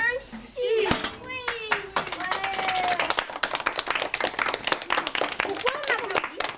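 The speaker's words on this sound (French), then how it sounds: "Pourquoi on applaudit?" A French school class on a snow trip claps together, lively irregular applause from many young hands, with children's excited voices and shouts over it.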